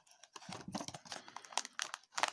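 Quiet rustling, crinkling and tearing of a taped parcel being opened, with small scrapes and ticks in quick irregular bursts close by.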